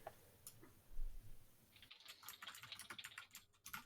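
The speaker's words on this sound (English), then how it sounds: "Nice typing." Fast typing on a computer keyboard, a quiet flurry of close key clicks and taps that grows denser in the second half, with no speech.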